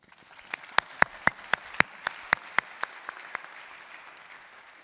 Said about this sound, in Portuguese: pedia uma salva de palmas